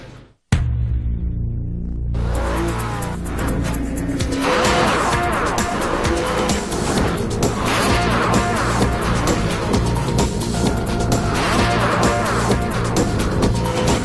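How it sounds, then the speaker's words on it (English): Formula Atlantic race cars at the 2003 SCCA Runoffs roar off the start in a loud, sustained pack of revving engines with squealing tires, the engine note rising steadily after a brief quiet moment at the beginning. "Green flag coming up."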